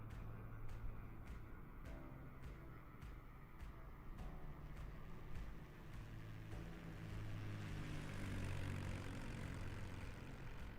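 A steady, faint engine drone comes from a small aircraft on approach to the runway in Microsoft Flight Simulator, flying a visual route over the Bahamas. It holds level throughout with a slight swell near the end.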